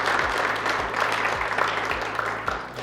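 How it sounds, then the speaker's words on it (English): An audience at a county announcement on expanding a nonprofit collaborative breaks into steady applause, a continuous dense patter of clapping at moderate loudness throughout. "Another round of applause for that."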